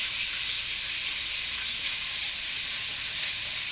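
Green chilies and curry leaves frying in hot oil for puli kulambu, giving a steady, loud, continuous sizzle with no pauses.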